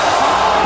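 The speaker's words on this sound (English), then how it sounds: "And now you hear the Long Beach crowd." A Long Beach hockey crowd at a memorial game against FDNY, a loud dense roar of cheering voices, brief and continuous.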